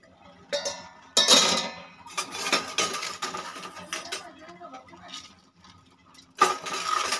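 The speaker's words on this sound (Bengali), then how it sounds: "500 চাল, ঢাকনা দিয়ে ঢেকে দিচ্ছি।" A metal lid clanks down onto a pot of raw rice for butter pulao, giving sharp clattering knocks of metal cookware at close range, with a few quieter kitchen rattles in between.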